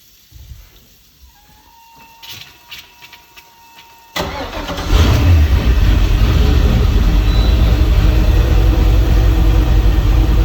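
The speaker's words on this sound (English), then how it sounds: "And now we're gonna start the water and turn the boat on." A 2003 Malibu 23 LSV Wakesetter boat engine cranks with a few clicks and whirs, then catches and settles into a loud, steady running roar that continues to the end, with no talk over it.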